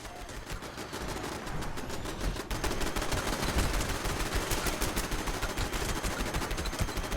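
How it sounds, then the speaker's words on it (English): Automated defensive turrets fire in the video game Fallout 76, a loud, dense and unbroken stream of rapid gunfire that keeps going with no pauses and no voices. "Once I repair it, all my turrets come back up again. And they start shooting stuff."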